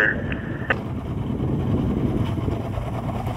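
A rescue boat engine turns over at a slow, easy idle during a disabled-vessel training exercise. It makes a low steady rumble mixed with wind buffeting on the microphone and a brief radio beep at the start.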